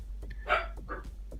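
A dog indoors gives a few short barks and yips, fairly faint, over a low steady hum with no talking.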